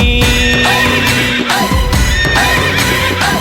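A white horse carried in a temple festival procession for Sri Pathirakaliamman at Mamsapuram neighs in loud repeated whinnies over a dense, continuous crowd and music din.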